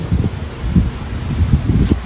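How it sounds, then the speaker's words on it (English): Strong wind gusts through a spring garden among potted orchids, a steady low rushing and buffeting against the microphone with faint rustling of leaves, continuous and fairly loud, no voices. "It's crazy windy."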